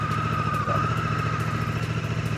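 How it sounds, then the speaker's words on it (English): A 2024 Honda Africa Twin motorcycle with stock exhaust runs steadily nearby at a low, even idle, with a constant drone and no revving. "Stock exhaust is not very loud. No. Sounds good."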